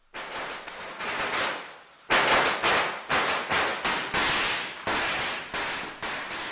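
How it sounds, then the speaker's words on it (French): Rapid strings of firecrackers crackle and pop loudly and continuously, with dense bursts of sharp bangs, set off along the route of a procession carrying ancestral incense to a new house. "On fait éclater des pétards en route"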